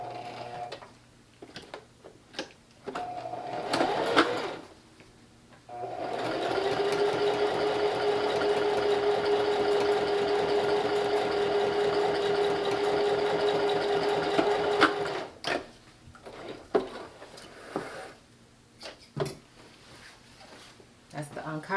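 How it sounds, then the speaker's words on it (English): A sewing machine runs steadily for about nine seconds, reinforcing the drawstring opening of a royal blue satin bonnet. Someone talks before and after the stitching. "I am now reinforcing the opening that the drawstring will go through."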